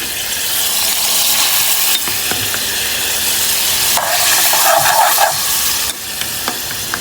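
Loud, continuous hissing sizzle from a hot pan as water is poured into frying tomato paste, with a brief surge in bubbling midway and occasional stirring scrapes.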